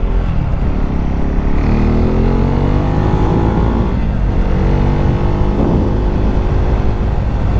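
A motorcycle pulls away from a stop on a road, its engine loud and close with rising and shifting harmonic tones as it accelerates steadily, the throttle held for several seconds.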